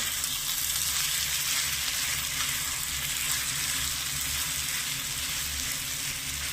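Sabudana stirred into ghee fries in a pan over a medium-low gas flame, giving a steady, soft, even sizzle that holds throughout without any voices.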